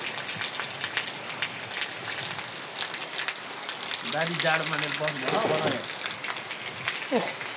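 Steady patter of rain falling on a hard surface in Syangja, Nepal, with a brief spoken voice partway through.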